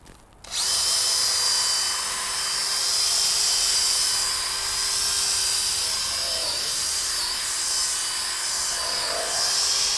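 A power drill spinning a scrub brush across a dirty car seat during a RAV4 interior wash, a continuous high whine that starts abruptly and holds steady at close range for the whole stretch, with no talking.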